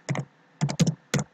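Keys clatter on a computer keyboard as a short command is typed at a Windows command prompt, in three quick bursts of close, crisp clicks with brief pauses between them and no talking.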